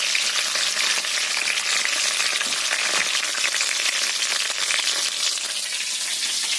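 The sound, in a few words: frying potatoes, cumin and raw tomato in oil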